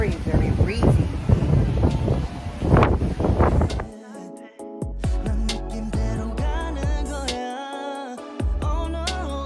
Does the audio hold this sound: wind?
yes